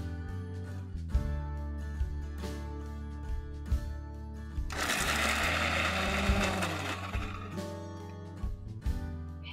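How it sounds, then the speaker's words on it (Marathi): An electric kitchen mixer grinds soaked onion and cashew into paste in one loud burst of whirring lasting a couple of seconds, set against a steady humming background with no talk. "आता हे सर्व एकत्र करून मिक्सरमध्ये ह्याची छान पेस्ट करून घेऊया"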